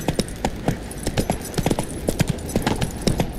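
The horse Roach from The Witcher 3 galloping, a brisk, close run of hoof clip-clops in an uneven quick rhythm.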